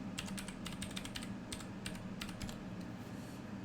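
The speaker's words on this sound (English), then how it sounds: "so I'm going to go ahead and type that in." A password is typed on a keyboard for a Raspberry Pi-style mini computer setup, giving a quiet, steady patter of clicking keystrokes over a low background hum.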